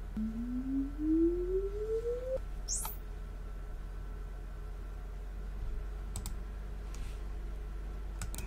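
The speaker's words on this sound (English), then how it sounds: "Here's the sweep at the 75 dB level." A sine sweep test tone from a height speaker in a home theater, played for a frequency response measurement, rises steadily in pitch for about two seconds, then a few faint clicks and taps follow in a quiet room.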